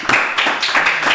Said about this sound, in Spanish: Vamos, un aplauso al menos por wow